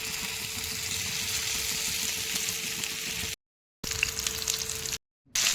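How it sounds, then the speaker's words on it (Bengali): Marinated chicken pakoras frying in hot oil give a steady, loud crackling sizzle with a faint hum beneath, broken by two brief silent gaps. "এবার ওই ম্যারিনেট করা চিকেনটা পকোড়ার মতো করে ভেজে নেব।"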